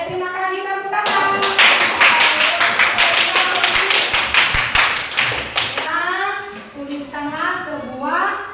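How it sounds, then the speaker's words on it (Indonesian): A class of children clapping hands together in a quick, rhythmic burst of many sharp claps, with an adult and children speaking before and after. "Tepuk tangan."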